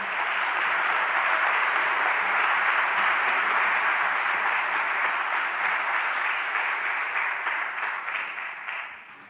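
Sustained audience applause welcoming speaker Andy Stalman onto a stage at a talk, a dense steady clapping from a large crowd that holds for several seconds before tapering off at the end.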